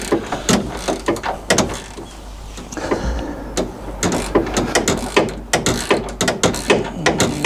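Screws are turned into an MGB windscreen frame, giving repeated ratcheting clicks in short, uneven bursts, close and fairly loud.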